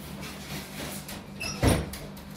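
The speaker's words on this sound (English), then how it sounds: "Let me close the door." A door closes in a home, a short soft thud near the end after faint rustling, fairly quiet and close.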